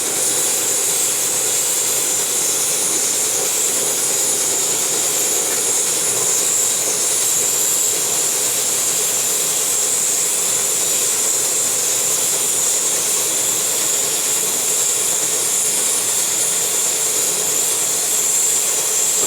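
Two MSR Whisperlite camping stoves, the original and the Universal, roar steadily while boiling water, a loud continuous hissing rush that holds unchanged throughout with no speech.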